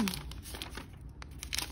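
Close crinkling and rustling of wax paper packed in a 2020 MacBook box, a continuous papery crackle with a few sharper crackles along the way.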